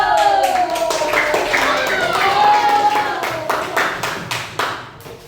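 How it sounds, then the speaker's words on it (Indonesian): Schoolchildren in a classroom clap together for a group of classmates, a dense burst of hand claps that thins and tapers off over a few seconds, with a few voices rising over it. "Tepuk tangan buat kelompok"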